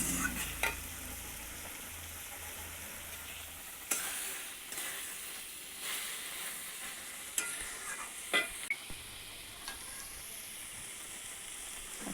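Masala fries with vegetables in a pan for a mixed small-fish curry, a continuous close sizzle with repeated stirring scrapes and knocks at irregular intervals, no voices.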